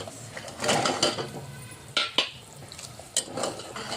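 Pieces of chapati patwadi tumbling into a pot of boiling curry, giving a few soft plops and splashes between stirring and clinking pan sounds, close and fairly quiet.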